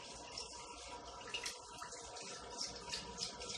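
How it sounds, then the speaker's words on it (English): Hot tap water runs into a cup in a kitchen during cake icing, a faint, steady splashing flow heard alone without speech. "I'm going to take a cup, and I'm going to fill it up with some really hot water."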